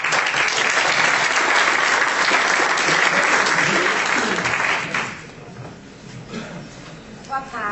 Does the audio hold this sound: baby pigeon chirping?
no